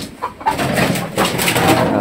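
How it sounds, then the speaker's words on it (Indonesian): A chicken clucks briefly a couple of times amid ambient noise at an old railway station in Tapen, Bondowoso, now used as a chicken coop, heard faint to moderate against a steady background. "Ayam."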